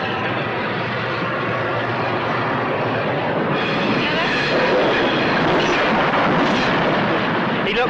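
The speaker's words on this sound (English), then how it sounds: "He looked and watched the train go by like that." A train rumbles past close by, a loud, continuous roar of wheels and carriages that swells slightly toward the end, with no pause.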